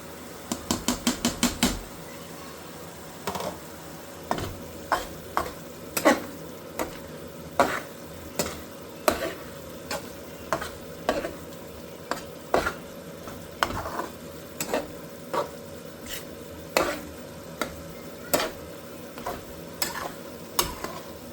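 Grated eggs are stirred in a frying pan: a quick cluster of spatula clacks at the start, then regular scraping knocks against the pan about once a second over a low, steady sizzle.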